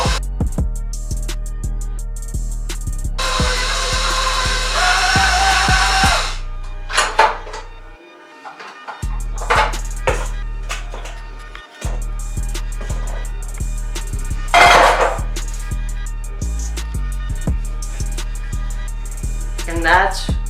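A stand mixer kneading cinnamon roll dough, a low rhythmic thumping and whirring that runs through most of the stretch with brief stops, close and fairly loud, with clatter and some talking in between.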